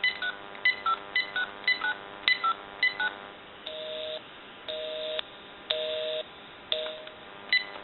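Dialing tones from a GE 27909EE1-A cordless telephone handset: a quick run of short keypad beeps followed by several longer, steadier tones, close and clear with no talking.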